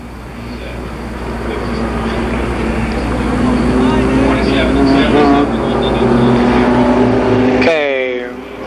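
Mini stock race cars run at Columbus Motor Speedway, a loud, sustained engine roar from the pack on track that swells and fades, with a voice speaking over it near the end.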